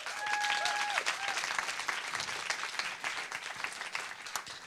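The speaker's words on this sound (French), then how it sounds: "Un tonnerre d'applaudissements pour Julien de l'association Blutopia." An audience claps for Julien of the Blutopia association at a youth event, sustained applause with a brief tonal tone at the start, moderately loud and continuous.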